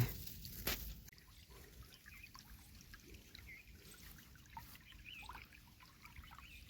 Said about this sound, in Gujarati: છે જો દોરિયામાં પાણી જાય છે